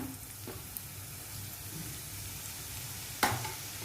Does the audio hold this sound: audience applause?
no